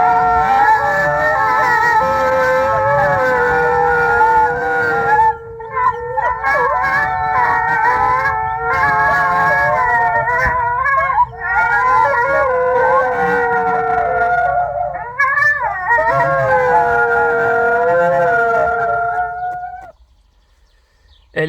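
A K2000 replica car plays a recorded wolf pack howling: several long, wavering howls overlap in harmony, loud and close, running almost continuously for about twenty seconds before fading out.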